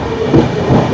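Inside the Howrah to Puri Dhauli Express, a daytime train with no sleeper coaches, a continuous loud rumble of the running carriage fills a brief moment, with no voices.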